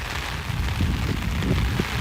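Heavy rain falling outdoors with no shelter nearby, a dense steady hiss with low rumbling patter, constant and fairly close for the whole stretch, with no voices.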